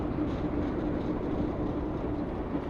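A local train passing below a road makes a low, steady rumble that stays fairly faint and distant from above, with no speech over it.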